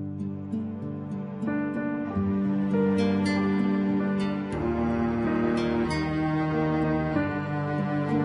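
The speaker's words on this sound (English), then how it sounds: "so I added in a little cello line that sounds like this" A simple cello line weaves a counter melody beneath guitar, a string section and a piano plunking out the tune, in a full, even instrumental passage with no voices.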